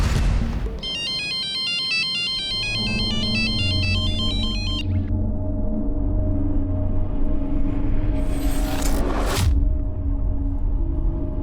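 A phone ringtone plays a repeating electronic melody for a few seconds over a low rumbling background, followed later by a sharp whooshing sound.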